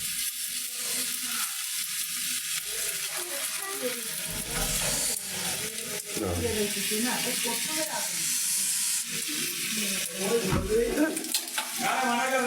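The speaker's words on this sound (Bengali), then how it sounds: "এই দেখেন তেলে পিঠা লাগানো হয়েছে" Puri frying in hot oil gives a steady, close sizzle and crackle, with occasional stirring and spatter bursts, as someone talks quietly over it.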